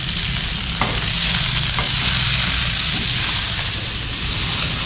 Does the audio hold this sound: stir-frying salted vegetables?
yes